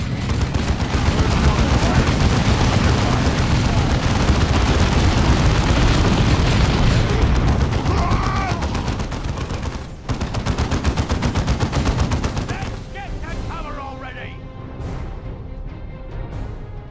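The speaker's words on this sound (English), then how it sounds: "suppressive fire from my heavy bolter will keep the greenskins pinned" Heavy bolter fire in the Dawn of War 2 strategy game hammers in sustained, dense bursts mixed with explosions and battle noise, thinning toward the end as scattered shots and effects ring out.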